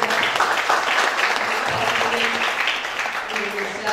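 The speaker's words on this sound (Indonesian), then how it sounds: "kita tepuk tangan kepada" Loud, dense applause from a crowd at a book launch honouring Yogyakarta sculptors, sustained and close, with a voice faintly audible through the clapping.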